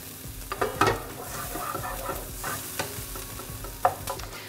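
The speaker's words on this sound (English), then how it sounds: "You can hear that sizzling because that oil's quite hot." Steady crackling sizzle of onion frying in hot oil, with occasional louder pops and the scrape of stirring, close by and without speech.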